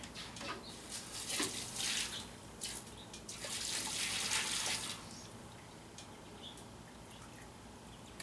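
Water drains from a Braumeister homebrew system, a steady trickle and splash with brief louder gushing surges, no one speaking.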